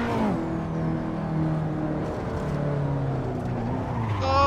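A rented KTM X-Bow driving the Nordschleife, its engine droning steadily with shifting pitch as it runs through corners, then revving up sharply near the end, heard close from inside the car.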